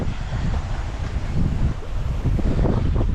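Strong wind buffets the microphone aboard a sailing boat at sea at night, continuous gusts, a loud low rumble that swells and eases, with a wash like sea spray behind it.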